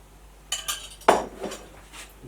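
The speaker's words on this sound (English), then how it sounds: "Another spoon of flour," Flour is spooned into a Panasonic SD-ZX2522 bread maker pan, giving a few quick metallic clinks and one sharper tap of the spoon against the pan, close and brief.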